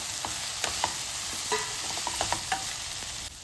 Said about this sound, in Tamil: அது மாதிரி பீன்ஸ் எல்லாத்தையும் நல்லா மிக்ஸ் பண்ணி விட்டுடலாம்